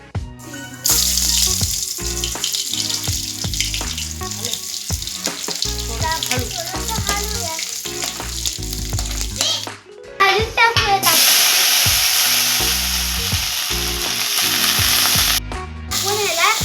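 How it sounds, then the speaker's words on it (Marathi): Ginger garlic paste hitting hot oil with cumin and mustard seeds, a loud sputtering sizzle up close, broken by a brief pause and then resuming strongly with crackles and stirring noises. "आता आपण आलं लसूण पेस्ट टाकूयात"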